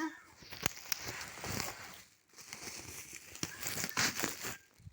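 Protective foil peeled off a new photovoltaic solar panel, giving a crinkling, tearing plastic rustle in bursts with sharp crackles, close and fairly quiet, with brief background handling noises.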